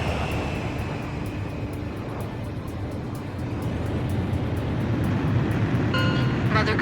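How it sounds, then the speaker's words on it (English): A transport plane makes an emergency landing in the combat flight game Ace Combat 5, its engines a steady, loud broadband roar that swells slightly toward the end, with faint chirping effects near the close. "The transport plane is ready for an emergency landing."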